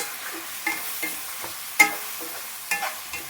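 Chicken frying in a pan over a high flame, stirred with a utensil that scrapes and knocks in irregular strokes against a steady soft sizzle, close and clear with no voices.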